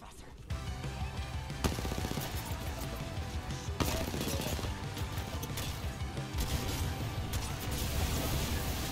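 Gunfire in the battle royale game Apex Legends, dense rapid shots and impacts layered over constant game noise and music for several seconds, with a player talking over the action.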